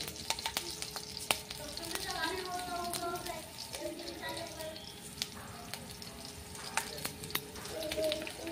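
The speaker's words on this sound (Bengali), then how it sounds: "দিলাম শুকনো কাঁচা লঙ্কা, শুকনো লঙ্কা বলছিলাম" Dried red chilies crackle and sizzle in about half a spoon of hot oil for tempering, a soft steady frying hiss with occasional pops and stirring clinks, under someone talking quietly.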